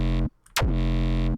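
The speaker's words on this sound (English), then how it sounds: "the sub bass sounds really like crunchy because it has a lot of distortion" Distorted, crunchy sub bass synth patch built in Serum, with a pitch envelope and LFO-driven pitch control: a short low note, a brief gap, then a note that swoops down in pitch and holds, thick and buzzing, loud and alone.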